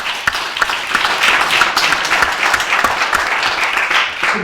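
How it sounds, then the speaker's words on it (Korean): Loud, sustained applause from a seated audience at a symposium on reducing carbon emissions, dense overlapping claps filling the room with no talking. "우리가 우리를 위해서 박수를 부탁드립니다."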